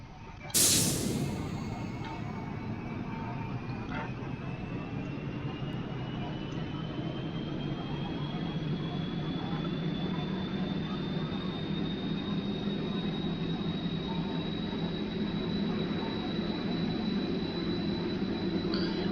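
Space plane in Kerbal Space Program taking off: a steady, loud engine roar holds throughout after a brief sharp onset, with a thin rising whine climbing slowly above the rumble.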